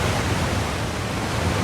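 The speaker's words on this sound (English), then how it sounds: "Check out that waterfall, though." A waterfall in the racing game Forza Horizon, set in Japan in the rain, gives off a steady, dense rushing roar with no breaks, heard alone.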